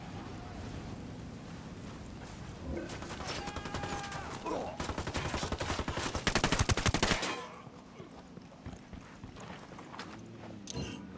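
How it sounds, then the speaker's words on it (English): Gunfire in Tom Clancy's Ghost Recon Wildlands, a rapid burst of automatic shots building to a loud dense volley, then fading to scattered sporadic pops. "Vamos, el señor Sten manda, disparen."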